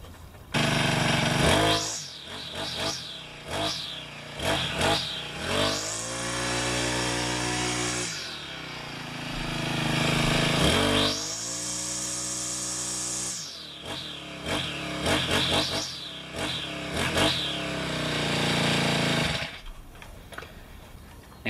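A small engine revs up and down repeatedly, rising to high-pitched whines and dropping back to a rattling idle, loud and close.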